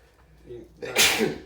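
A single sharp sneeze bursts out close and loud after a quiet, faint breathy lead-in, then quickly trails off.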